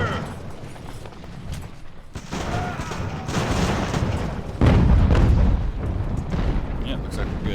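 Age of Sail era artillery guns firing from a hill over friendly troops in a land battle, heavy booms and rumbling volleys layered over one another, with someone talking throughout.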